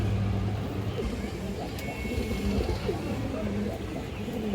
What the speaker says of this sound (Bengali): একটা ইন্ডিয়ান নাজরা কালদম নর কবুতর আছে, বড় সাইজ